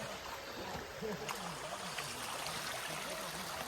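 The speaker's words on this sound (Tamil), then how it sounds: "தண்ணி அழகா, இயற்கையோட தண்ணி அழகா ஓடுது." Water runs steadily at a waterfall in a Kerala village area, a continuous rushing and trickling wash heard close and fairly quiet, with no talk over it.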